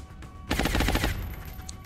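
Rapid bursts of automatic gunfire from the Long War mod of XCOM, an Ironman Impossible campaign with MEC troops, loud and rattling for about a second, then tapering into a lingering echo.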